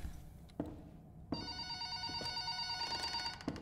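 A telephone bell rings in a horror video game, one long, loud metallic trill that begins after a few soft thuds and carries on to the end.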